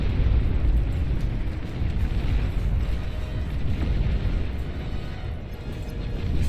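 Juno missile explosions in the strategy game Beyond All Reason, a continuous deep rumbling roar of blasts that stays loud and dense throughout, with no clear gaps between impacts.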